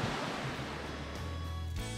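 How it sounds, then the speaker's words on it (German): Heavy rain pouring down during a motorcycle tour in the Black Forest, a dense loud steady wash of rushing water noise with little variation and no talk. "Es schüttet und schüttet und schüttet und schüttet immer weiter"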